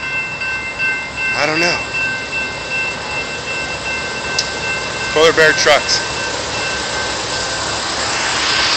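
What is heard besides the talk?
train passing at a level crossing in Fresno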